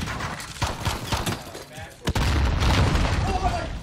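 A grenade explodes in the Modern Warfare video game, a sharp boom about halfway through followed by a dense rumbling tail, with game sounds and voices around it.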